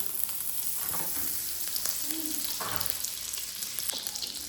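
Butter sizzling and crackling in hot oil in a pan, a steady fizz with a few faint pops.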